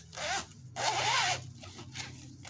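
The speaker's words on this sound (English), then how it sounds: "And there's a zipper on the back." Zipper on the back of a large pencil case pulled in a few quick strokes, two longer rasping zips followed by shorter tugs, close and clear with no voices.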